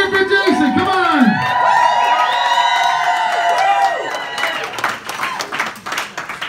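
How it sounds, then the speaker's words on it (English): Wedding guests cheer, whoop and applaud at a best man speech, a loud, lively crowd roar with rising shouts that gives way to scattered clapping and voices. "Give a round of applause."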